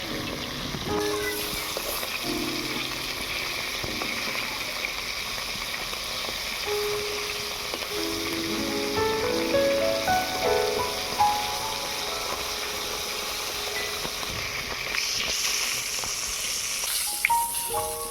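Koi fish sizzle as they fry in hot oil, a steady crackling hiss that runs throughout alongside soft tonal background music.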